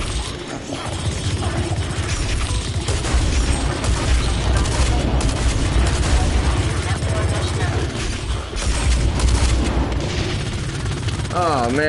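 Dense in-game combat from the shooter Blacklight Retribution, with the player's own explosion among constant gunfire and booms, loud and continuous throughout, with voices talking over the battle.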